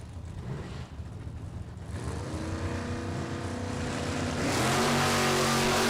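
A Camaro and a Duster launch side by side at a Super Pro drag race, engines roaring and swelling louder as they leave the line, a dense, loud rumble with no talk.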